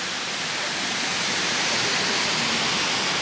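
A waterfall cascades in a natural setting, giving a loud, steady, broadband rushing roar that fills the whole clip with no voices.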